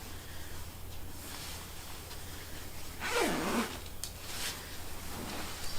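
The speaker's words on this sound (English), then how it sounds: "they zip up tight on the legs" Cross-country ski pants being zipped up tight along the legs, a single brisk zip rasp rising and falling over about half a second, close by, against a steady low background hum.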